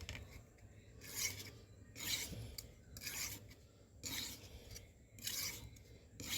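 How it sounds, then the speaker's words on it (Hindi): A kitchen knife is drawn across a sharpening stone in regular rasping strokes, roughly five even passes spaced about a second apart, close and quiet with no speech. "अब सबसे अहम, छुरी को चिकना करना है।"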